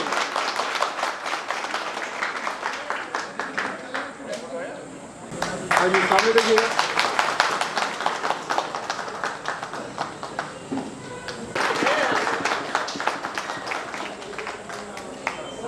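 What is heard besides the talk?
applause at retirement party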